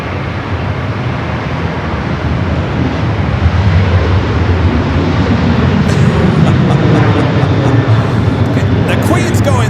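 An Air New Zealand heavy jet arriving on LAX runway 25 left sends a loud, steady broadband engine roar across the whole stretch, with rushing wind noise and a few clicks near the end.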